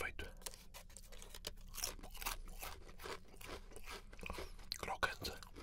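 Potato chips crunched close to the mic in a series of crisp, irregular bites and chews, steady and moderately loud with no talking over them.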